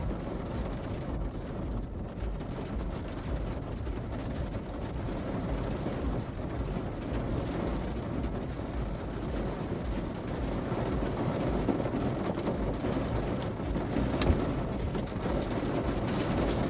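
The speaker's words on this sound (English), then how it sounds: "raining harder now." Steady rain falls in a continuous hiss, dense and even, growing slightly heavier toward the end.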